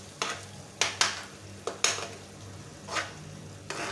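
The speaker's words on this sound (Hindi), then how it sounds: "अब हम इसको अच्छी तरह से मिक्स कर लेंगे अपने अंडों को" Eggs and onions being stirred in a frying pan, with a soft background sizzle broken by several sharp spatula scrapes and knocks against the pan at uneven intervals, close and fairly quiet.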